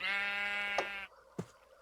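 A sheep in the Minecraft video game lets out one long, buzzy bleat, then a short pause and a brief click-like game sound, clear and close with no talk.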